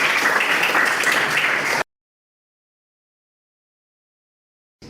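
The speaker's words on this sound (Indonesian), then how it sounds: "tepuk tangan untuk kelas 11" Students of class 11 clap together in a classroom during a Python programming lesson, a brief burst of lively applause lasting under two seconds before cutting off abruptly into silence.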